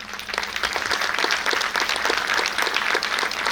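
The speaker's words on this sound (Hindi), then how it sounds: "आप कृपया तालियों की गड़गड़ाहट से" Loud, dense applause from a crowd at a school annual day, steady clapping that fills the whole stretch without letting up.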